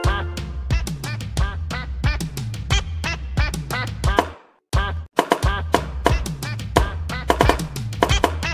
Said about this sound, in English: Wow, this is a duck.